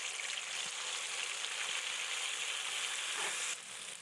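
Chili and onion paste fries in hot oil, giving a steady close sizzle with a few soft stirring scrapes, and the sizzle eases slightly near the end.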